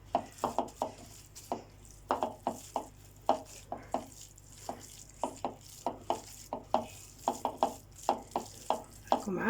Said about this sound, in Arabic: العناصر كامله، نخلطها.